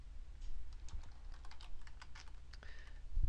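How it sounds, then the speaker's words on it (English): Keys on a computer keyboard are typed in quick, uneven bursts of soft clicks, close and fairly quiet, while entering data into an Access database. "So I'm just typing Jim and then I'm going to tab and type Southdown"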